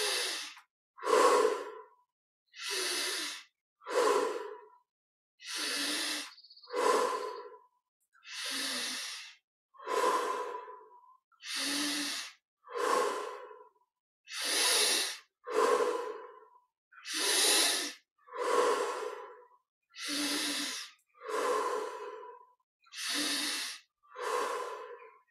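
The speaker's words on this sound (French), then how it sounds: "On inspire par le nez et expire par la bouche." Deep, slow breaths during a breathing exercise, drawn in through the nose and pushed out through the mouth, repeat evenly in a steady rhythm, loud and close with no talking.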